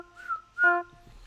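A person whistles into a microphone in two short, clear tones, the second louder and held slightly longer, close and alone with no talking.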